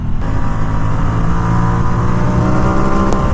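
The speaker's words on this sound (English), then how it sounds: "Under that acceleration, when this thing is ripping forward" A Ducati XDiavel S motorcycle engine roars loud and close under hard acceleration, a dense sustained drone with no speech.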